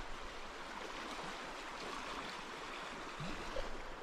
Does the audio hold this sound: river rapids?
yes